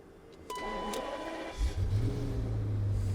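An Alpina B12 6.0 E38 with a V12 engine starts up: a click and brief starter whir, then the engine catches into a deep, steady idle rumble close by.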